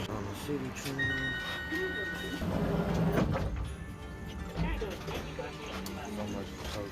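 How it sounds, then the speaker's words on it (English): Ride aboard a city tram on Kagoshima's local line in Japan, with a rumbling interior, clunks and a brief chime tone, while people talk over the moving car. "On the city train."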